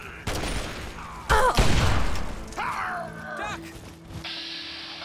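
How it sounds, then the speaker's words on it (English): Gunfire in the game Fallout 3: a few sharp shots and thumping impacts mixed with clanking effects and creature cries, close and loud in a busy fight. "I'll shoot at this guy, I guess."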